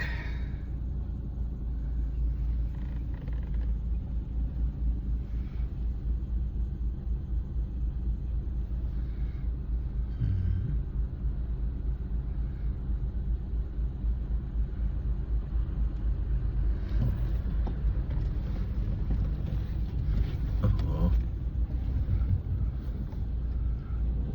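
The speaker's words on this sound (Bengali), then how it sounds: "আচ্ছা, আমি ওয়েট করি ওই গাড়িটা চলে যাক।" A car travels along a bumpy road under repair, a low continuous rumble of engine and tyres that swells slightly midway and toward the end, with wind buffeting the microphone and no talk.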